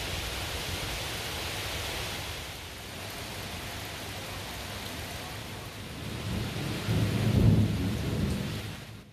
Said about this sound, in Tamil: விட்டுவிட்டு மழை பெய்து வருகிறது